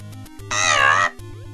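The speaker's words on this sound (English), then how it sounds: "I like Pit's little cry when he gets hit." A high, strained cat-like yelp from Pit, the angel hero of the video game Kid Icarus, crying out when hit. It comes as a single loud wail of about half a second, set over looping chiptune background music.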